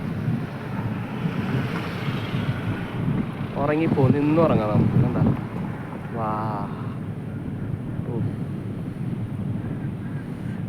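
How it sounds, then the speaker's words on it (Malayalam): Strong wind buffets the microphone with a low, continuous roaring rush, while people talk briefly over it. "ഓ എന്താ കാറ്റ്."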